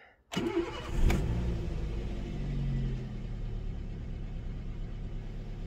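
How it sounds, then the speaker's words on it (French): A Toyota car engine cranks and catches with a sharp burst, then settles into a steady, even idle rumble that continues for several seconds, close and alone. "Allez, on démarre, on laisse tourner quelques secondes comme d'habitude"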